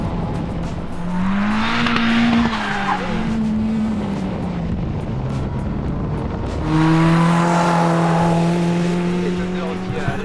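Caterham race cars roar past with rising and falling engine whine and tire squeal, one pass early and another louder pass near the end.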